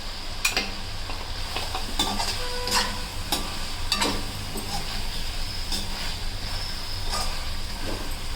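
Eggs frying in oily biryani masala, with a steady sizzle and repeated scraping clicks as a spatula stirs them through the pan, close and continuous with no voices.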